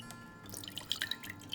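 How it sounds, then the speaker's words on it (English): Chicken broth poured into a cooking pot with stuck-on roux, heard as faint, close trickling and dripping liquid with small splashes, no talk. "I will probably pour a little chicken broth in here because it kind of stuck in there"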